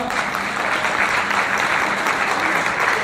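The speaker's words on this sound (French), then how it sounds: "j'aimerais qu'on les applaudisse vraiment pour le journal" Warm audience applause honouring a newspaper's 20th anniversary, close, even, continuous clapping across the whole stretch with a faint murmur of crowd underneath.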